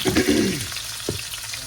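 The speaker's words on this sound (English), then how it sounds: "time to get these stir-fried cabbage going. I've got 1 medium onion to go in there." A medium onion hits a hot pan for stir-fried cabbage, giving a brief burst of sizzling that quickly settles into a quieter, softer fry with a small clatter near the end.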